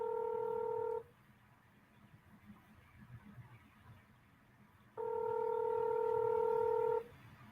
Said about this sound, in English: John, can you hang up your phone, John, and pick up my call?